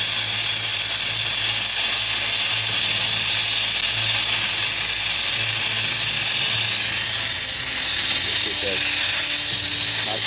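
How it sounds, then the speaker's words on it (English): A torch flame melting gold gives a steady, loud hissing roar with a buzzing tone underneath, continuous throughout and close, while a voice talks over it. "Don't have to have the flame too hot, because you don't want to overheat the gold when you're melting it."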